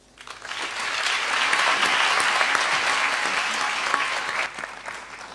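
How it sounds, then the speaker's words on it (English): A crowd at a youth volunteer programme celebration claps warmly, swelling quickly from quiet into sustained, even applause that tapers off near the end. "Can we have another round of applause,"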